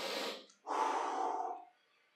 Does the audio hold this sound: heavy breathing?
yes